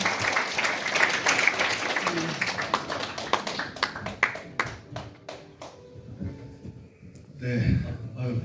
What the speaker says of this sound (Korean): 박수로 맞아주시면 고맙습니다.